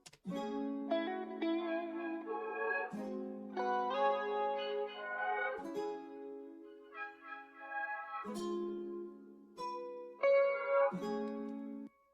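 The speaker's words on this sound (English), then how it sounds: "I just recorded this on my guitar and it sounds like this." A short self-recorded guitar phrase with chorus and EQ effects plays alone, made of clean sustained notes and chords that change in steady steps and repeat like a loop.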